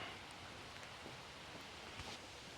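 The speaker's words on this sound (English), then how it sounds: "It is really raining hard." Heavy rain pours steadily in the town of Suchitoto, El Salvador, a dense, even hiss of drops on surfaces filling the whole moment with no break and no one speaking.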